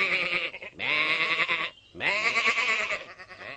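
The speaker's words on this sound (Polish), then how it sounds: "Tymczasem Tom i Reksia zaczęli zaganiać owce" Two long, loud wavering sheep bleats, close and alone, with a brief pause between them, as a cartoon flock is herded on a farm.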